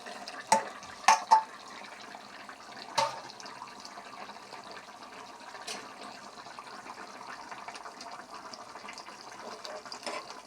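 Broth is poured into a hilsa fish curry cooking with lai (mustard) leaves: a few sharp knocks, then a faint, steady liquid rush and bubbling that carries on quietly, with no speech.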